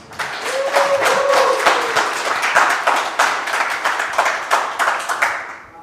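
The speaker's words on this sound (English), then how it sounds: "How about a nice big round of applause?" An audience at a conference talk breaks into applause, dense clapping that builds quickly, holds for several seconds and thins into scattered claps at the end.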